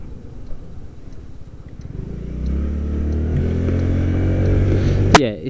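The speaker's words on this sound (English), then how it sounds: "It whines, like as in it's trying to kick the engine into going, but it just doesn't." A scooter's starter motor whines steadily and fairly close, cranking without the engine catching; the tone swells after a rough start and cuts off sharply near the end.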